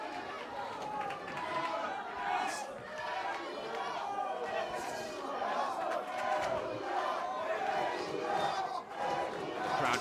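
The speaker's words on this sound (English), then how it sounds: "You can hear the crowd shouting his name." A boxing arena crowd at a WBA Africa minimum-weight bout shouts and chants a boxer's name, a dense, loud, continuous roar of many voices swelling in waves throughout.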